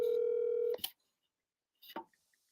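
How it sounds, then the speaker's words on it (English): A telephone dial tone holds steady, then cuts off, followed by two short bursts of dialing or line clicks and near silence, heard over a speakerphone. "JJ, I'm going to call you, and we're going to put you on the speaker."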